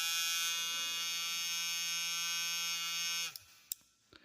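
A failed homemade sonic toothbrush buzzes with a loud, steady, high-pitched electric drone, close and unbroken for about three seconds before cutting off abruptly, leaving a couple of small handling clicks.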